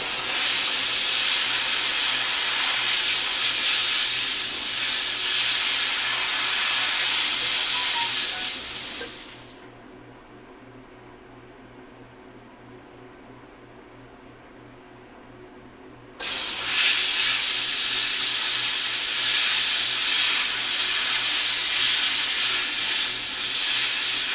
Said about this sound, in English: Steam off our earrings.